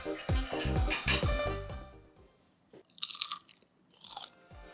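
Close, loud crunching and chewing of crispy pan-seared salmon skin, a burst of crisp bites in the first two seconds followed by quieter clinks of cutlery and dishes.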